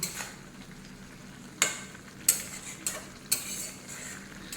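Small fish and potatoes frying in a pan over a raised flame are stirred gently, a soft continuous sizzle broken by a few sharp scrapes and clinks of the spoon against the pan.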